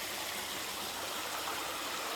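A creek flows over exposed bedrock in West Virginia, giving a steady, even rush of water that is fairly soft and has no talking over it.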